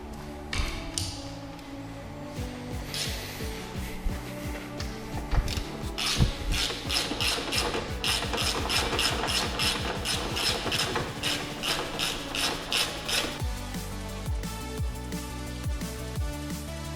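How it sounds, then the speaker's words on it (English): Rapid steady ratchet clicking as engine mount bolts are tightened on a BMW 120D, close and continuous, with rubbing and knocking from the tool under a low hum. "And then I'll ratchet it up"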